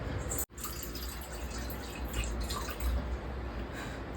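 A quarter cup of water is poured into a quarter kilo of sugar in a pan for ghee Mysore pak syrup, making a faint, trickling, dripping splash that continues for a few seconds.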